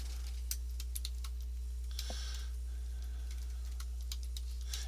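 Keyboard typing while entering Visual Basic code: light, scattered keystroke taps above a constant low electrical hum, with no voice.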